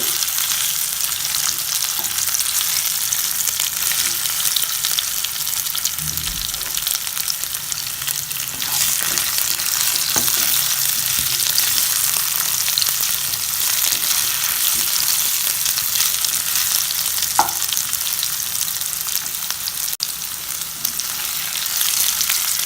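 Baby potatoes fry in oil on a medium flame, giving a steady, even sizzle that holds throughout with only a few faint stirring knocks and no speech.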